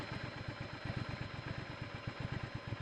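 A Triumph Scrambler 1200 XC motorcycle engine runs at a steady idle nearby, its rapid, even pulsing throb carrying a slight mechanical clatter, with no voices.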